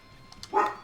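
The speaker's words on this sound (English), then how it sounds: "That's my dog, Murphy." A dog named Murphy, a familiar in the game Hades II, gives a single short bark-like yip near the end, preceded by faint soft clicks, with no talking.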